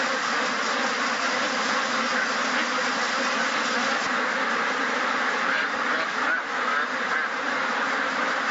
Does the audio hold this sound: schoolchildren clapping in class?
no